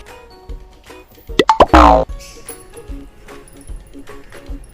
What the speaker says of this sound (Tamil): மூணு தக்காளி பெரிய தக்காளி வந்து கட் பண்ணி வச்சுருக்கோம் இப்போ அந்த தக்காளியும் இதில் சேர்த்துடலாம்